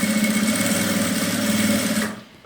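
A sewing machine runs steadily, stitching a seam on a fabric toiletry bag, its rapid needle whir close and continuous for about two seconds before slowing and stopping.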